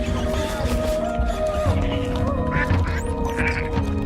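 A duck quacking in a video game, several clear quacks over layered game music and background audio, with a voice speaking now and then.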